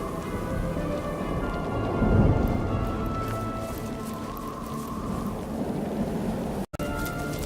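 Game thunderstorm in Divinity Original Sin: steady heavy rain hiss with a rolling thunder rumble swelling about a third of the way in, continuous and fairly loud, with no talk.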